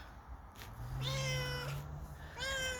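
A cat in a crate lets out two drawn-out meows, close and plaintive, with a steady low rumble underneath.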